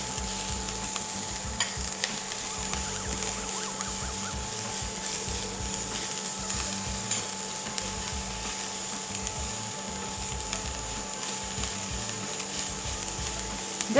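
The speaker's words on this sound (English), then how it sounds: "Just onions and chili frying in the oil already smells so nice" Onions and chili frying in oil in a pan, a steady close sizzle with occasional stirring scrapes, continuous throughout with no talking.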